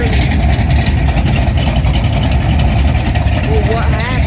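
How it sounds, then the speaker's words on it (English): A drag car pulls away from an airport car meet, its loud, rough engine rumbling steadily and close throughout, with crowd voices talking over it. "there's a drag car leaving"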